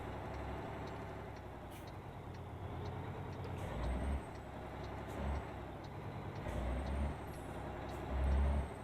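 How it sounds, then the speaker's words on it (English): In American Truck Simulator, a truck's parking brake releases with short air hisses over a steady low diesel idle, several bursts spaced through the clip. "get the parking brake off and we'll get going"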